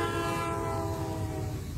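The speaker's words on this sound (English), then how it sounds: "catch Reading and Northern's 425 as it pulls their Lehigh Gorge Scenic Railway train." Reading and Northern 425 steam locomotive pulling a Lehigh Gorge Scenic Railway train sounds a loud, sustained horn blast close by, with train rumble underneath.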